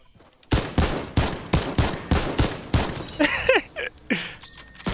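Video game gunfire, a rapid string of loud, evenly spaced shots in a burst of about eight, followed by scattered ricochet-like whines and a few more reports, with no talk over it.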